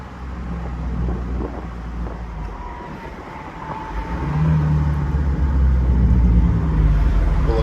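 A 1969 Alfa Romeo Spider Veloce pulls away from a standstill, its engine note building and growing louder over several seconds, heard from inside the car with no speech.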